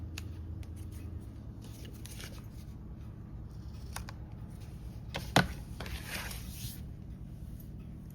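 Scissors trim excess paper for 80s-style journal pockets, a few quick crisp snips close up against a quiet room.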